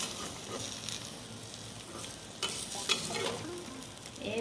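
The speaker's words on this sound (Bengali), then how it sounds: "একটু অল্প একটু তেল যাতে তলায় ডিমটা ভাজা হয়" Steady, crackling sizzle of an egg frying in hot oil in a pan, close and fairly loud, with a few sharper pops near the end.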